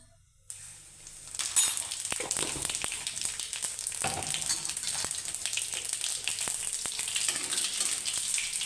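Cumin seeds drop into hot oil for a Punjabi aloo matar curry and break into a sustained, close, crackling sizzle that holds steady, with small pops and a few stirring clinks.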